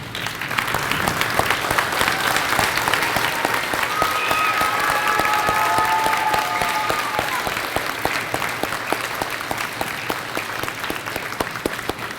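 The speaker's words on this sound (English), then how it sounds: "let's give them a standing ovation for what they did" A school audience at an elementary school Veterans Day program gives veterans a standing ovation, with dense, steady clapping from a large crowd filling the room throughout.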